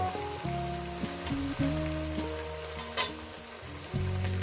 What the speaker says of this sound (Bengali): এই মাছগুলো ভেজে নিয়েছি মাছগুলো আমার ভাজা হয়ে গেছে